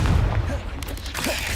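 Confringo explosion spell in Hogwarts Legacy, a deep booming blast with low rumble, followed by a brief crackle and a second muffled impact in a short burst.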